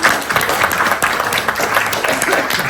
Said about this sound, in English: let's give Jess another round of applause